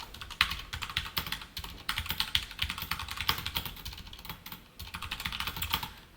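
Steady, fairly quick typing of code on a computer keyboard during a C programming lesson, close crisp keystrokes in irregular bursts with brief pauses and no talk over them.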